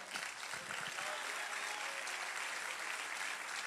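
A church congregation applauds during a sermon, sustained even clapping heard from some distance, fairly soft and continuous without speech over it.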